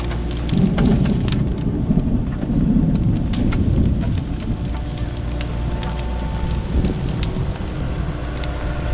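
Steady heavy rain with a deep rolling rumble of thunder and lightning underneath, by the sea, loud and continuous throughout.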